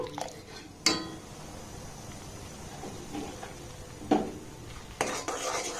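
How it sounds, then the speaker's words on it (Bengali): Milk heating in a pot, stirred with a spoon: soft scraping and a few sharp clinks of metal against the pot over a low, steady background. "দুধটাকে প্রথমে একটু আমি ফুটিয়ে নেব"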